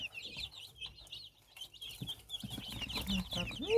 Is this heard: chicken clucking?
yes